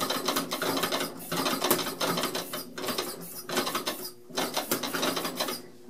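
A small homemade internal combustion engine is turned over by a motor to start, giving a dense, rapid mechanical clatter and ratcheting that runs continuously with brief dips, loud and close.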